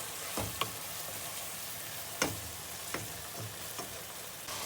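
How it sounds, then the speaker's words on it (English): Spices are stirred into chicken tikka masala frying in a pan, a continuous low sizzle punctuated by several sharp scrapes and taps of the spoon against the pan. "Now we're going to add in our spices, and we'll mix that around as well."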